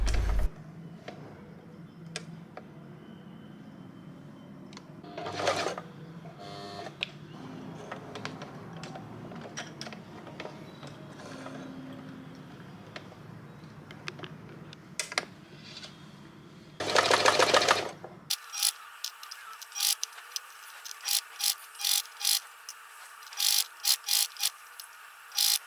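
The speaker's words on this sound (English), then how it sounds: "you can use the hand wheel to make one stitch at a time for better precision, and then pivot and continue sewing." A sewing machine stitches a boatneck top, with soft clicks and mechanical ticking as it pivots at a corner, then a run of short, evenly spaced stitching bursts close by.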